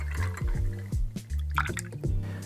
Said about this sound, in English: For this, we're going to use a little bit more apple cider